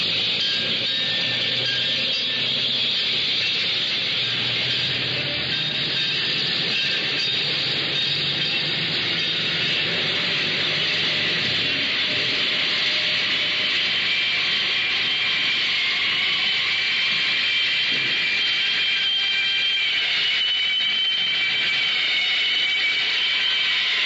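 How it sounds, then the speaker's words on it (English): Busy New York City street ambience with a steady, loud wash of traffic and rumbling rail noise like a passing train or subway, continuous throughout with no clear voices. "New York is a city of sound, and that sound is the voice of a city, the voice of New York."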